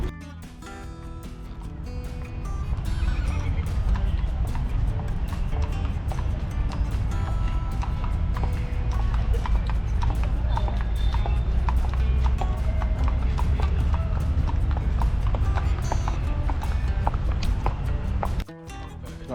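Horse hooves clip-clopping steadily during a horseback ride in Baguio, continuous and fairly close across the whole stretch, with other outdoor noise mixed in and no clear neigh.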